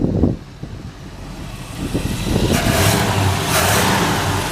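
A 1955 Ford F100 pickup's healthy big-block engine with dual exhaust revs up and holds a steady, loud roar outdoors, with no voices.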